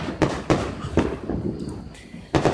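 Fourth of July fireworks bursting in the distance, several sharp booming pops spaced irregularly, the last pair close together, with faint background noise between them.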